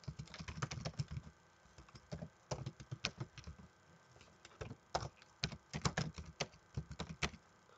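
Rapid, uneven clicking of keys on a laptop keyboard while an email address is typed, in quick bursts with short pauses, close up and fairly quiet, with no voices.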